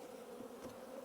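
Honeybees hum steadily at a hive in early spring as pollen starts coming in, a close, even, droning buzz with no voices.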